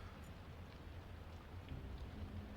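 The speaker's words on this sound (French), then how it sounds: "Puis la pluie en fait me gonfle un peu. Elle est tristoune la pluie." Steady rain with low rumbling thunder from the video game Black Mirror 3, a continuous soft wash of drops at low level with no voices.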